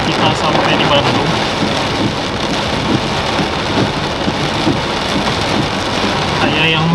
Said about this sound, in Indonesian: Hujannya makin menjadi-jadi nih